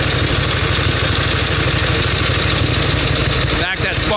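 A 1916 Harley-Davidson motorcycle engine idles steadily up close with an even, rapid mechanical pulse, remarkably quiet with little valve or pushrod clatter, briefly dipping near the end.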